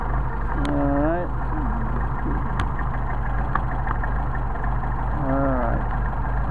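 A Mercedes 190SL engine with Solex carburetors idles steadily at stable temperature, a continuous low rumble throughout, with brief whining squeals near the start and end.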